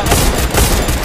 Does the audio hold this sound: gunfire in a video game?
yes